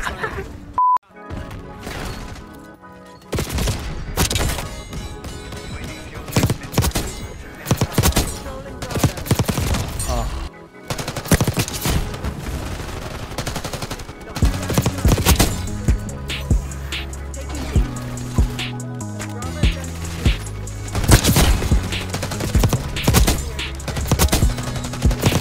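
Shotgun fire in a video game, repeated loud sharp blasts in quick bursts over a steady music track with heavy bass, with brief pauses between volleys and a voice occasionally exclaiming underneath.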